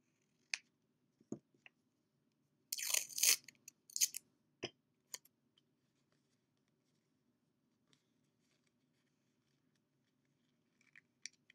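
Scissors snip and trim cardboard and tape while a model Star Wars TIE fighter is being built, with a few sparse clicks, then a short cluster of crisp cutting and crinkling, all close and quiet against near silence.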